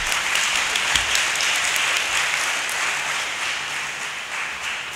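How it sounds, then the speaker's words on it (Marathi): Audience members at a gathering break into steady, full applause that keeps a dense clapping texture and fades slightly toward the end. "सगळ्यांचं आपण सगळ्याजणी टाळ्या वाजवून कौतुक करूया"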